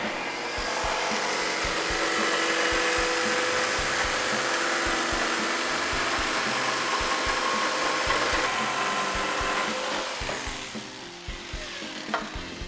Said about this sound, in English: Next, we take this jigsaw.